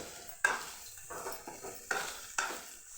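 Cumin is stirred in a hot pan for okra chutney, with four sharp scraping strokes of a spoon against the metal over a soft sizzle, close up and without talking.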